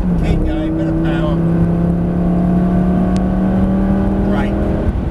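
A Lamborghini Gallardo on a track at Prestwold Hall accelerates under power, a steady engine drone with rising tonal whine running continuously and closely.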